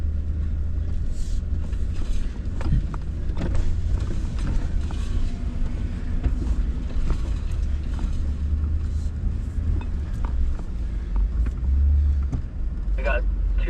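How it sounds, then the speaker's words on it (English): Off-road vehicles creep down a rough trail with a steady low engine rumble, creaking suspension and scattered knocks and crunches, while people talk over the noise throughout. "We got two more cars trying to come down."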